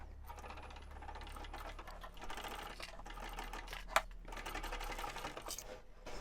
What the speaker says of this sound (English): And now I'm going to stitch across the bottom of the pocket.